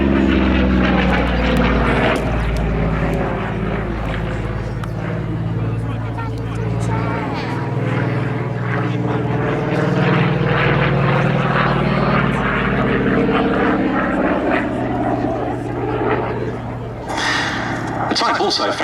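A Corsair single-engined American fighter plane drones loudly and steadily, its propeller engine pitch slowly rising and falling as it passes.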